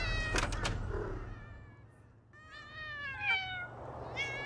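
Several cats meowing in the video game Thirty Flights of Loving, a cluster of near, fairly loud meows opening the clip, then more rising, drawn-out mews after a short lull, over a low steady hum.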